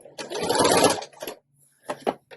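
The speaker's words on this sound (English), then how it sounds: "And you can sew this slow, or you can sew it fast." A home sewing machine stitches lace for a junk journal pocket, one sustained whirring run followed by two short bursts, close and fairly clear with pauses between.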